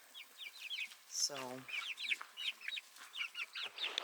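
Backyard flock of chickens, including large buff hens and smaller Speckled Sussex, clucking in quick repeated bursts close by, with one low rising call partway through and a brief word spoken.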